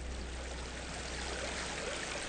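Steady rushing water of a waterfall in the video game Enshrouded, a continuous broadband wash that holds at one even level throughout with no talk.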